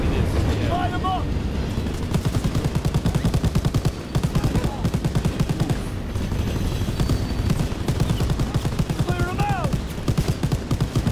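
Rapid, sustained gunfire in Call of Duty WWII chatters almost nonstop at close range, backed by a rumbling engine, with a voice calling out briefly underneath.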